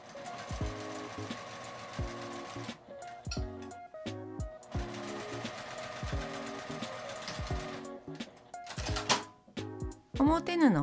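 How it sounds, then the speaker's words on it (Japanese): Sewing machine stitching two layers of fabric together, right sides facing, with a 1 cm seam allowance for a round drawstring bag; steady rapid mechanical runs broken by short pauses, close and clear, with a brief squeak near the end. "表同士を合わせて1センチの縫い代で縫います。"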